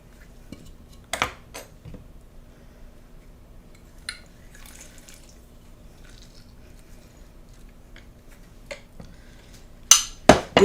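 A spoon clinks and scrapes inside a glass bowl while stirring lime juice and sugar, with sparse taps and a few sharper clatters near the end over a quiet background.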